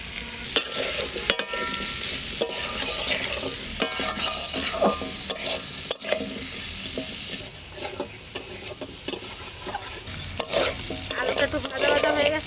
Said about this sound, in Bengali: এই তেলের মধ্যে আমি আলু কটা ভেজে নেব।